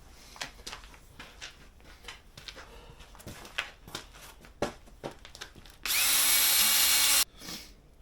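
A wheel being sanded with 100-grit abrasive under a power tool: intermittent scuffing strokes build to one loud, steady burst of sanding lasting just over a second, then fade back to scattered rubbing.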